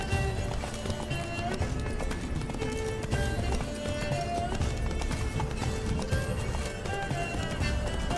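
Galloping horse hoofbeats from The Witcher 3 video game, a steady rapid clip-clop running throughout at close range over a dense layer of game music and ambience, with a brief whinny possible.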